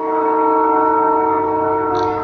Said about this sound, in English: The train is so loud, it sounds like it's gonna kill.